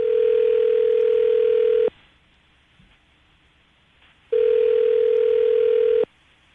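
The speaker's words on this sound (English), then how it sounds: "we're about to dial her phone number right now" Telephone ringback tone while a phone number is being called, a steady electronic tone that repeats twice with long silent gaps between, close and clean.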